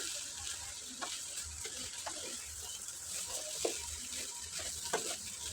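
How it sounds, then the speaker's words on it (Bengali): A spatula turns soaked pulao rice and lentils in a pot for chicken khichuri, with soft scrapes and occasional clinks repeating over a low, steady sizzle, fairly quiet and close. "এখন খুন্তি দিয়ে ভালোভাবে নেড়ে চেড়ে মিশিয়ে নিতে হবে"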